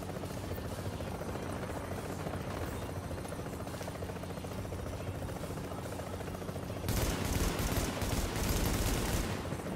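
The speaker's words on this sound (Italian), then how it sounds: "L'elicottero dovrebbe essere un'estrazione di un altro tipo." Extraction helicopter hovering nearby in The Division's Dark Zone, a steady loud rotor drone layered with distant gunfire bursts that grow louder and denser toward the end.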